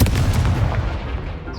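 A short fiery spell blast booms in the Hogwarts Legacy video game, a heavy, loud explosion whose rumble fades away within a second or two.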